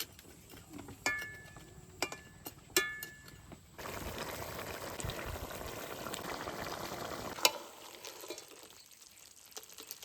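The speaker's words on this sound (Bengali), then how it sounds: "একটুখানি জল দিয়ে দিয়েছি এবার মিনি দশেক জাল দেবো তাহলে আমার কাঁকড়া কষানো হয়ে যাবে" A Bengali crab curry with a little water simmering in a pan: a few sharp clinks first, then a steady bubbling hiss for several seconds that stops abruptly.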